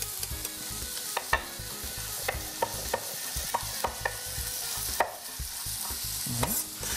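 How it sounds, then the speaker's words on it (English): Long strips of sausage fry in a skillet for Cajun jambalaya, giving a steady sizzle with a string of sharp spoon or spatula clicks as they are stirred, close and fairly quiet, with no talking. "We're gonna go ahead and throw that right into our skillet"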